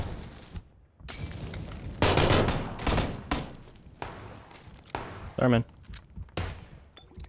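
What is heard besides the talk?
gunshots in video game PUBG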